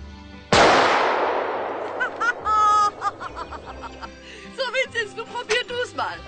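A single loud rifle shot cracks out at a shooting contest near a forester's lodge, with a long decaying echo, followed by snickering laughter and short bursts of talk.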